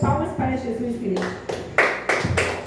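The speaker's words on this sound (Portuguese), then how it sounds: "Receba o servo do Senhor, palmas para Jesus, igreja." A church congregation claps after a Portuguese-speaking voice, giving sharp, sparse, close claps that rise in number toward the end.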